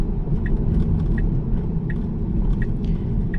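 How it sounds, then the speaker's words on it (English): A Tesla on Full Self-Driving Hardware 3 rolls through town near Anaheim, giving a steady low road rumble and tyre noise inside the cabin, with faint periodic ticking like a turn signal. "I'm just driving through town right now"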